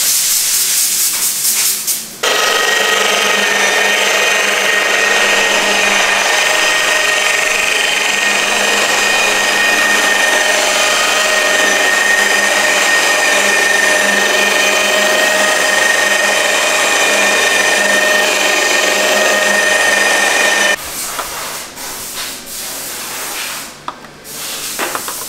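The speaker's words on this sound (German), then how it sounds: "Es wird poliert." A polishing machine works over a BMW X5 during a budget car detailing job in Turkey, a loud, steady whirring hiss that runs unbroken for most of the stretch before cutting off near the end.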